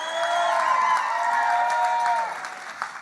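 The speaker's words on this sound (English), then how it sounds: "Can we get a round of applause?" Wedding guests applaud the bride in a sustained, dense round of clapping and crowd cheering that holds steady, then tapers off near the end.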